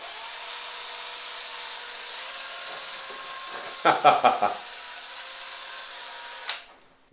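An electric drill whines steadily at high pitch while spinning an attached flashlight, with a short burst of laughter and a word over it before it cuts off.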